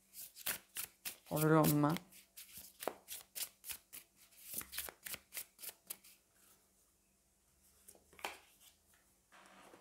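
Haunted Manor Oracle cards are shuffled for a draw, rapid riffling and flicking bursts close up, with someone talking over and between the shuffles.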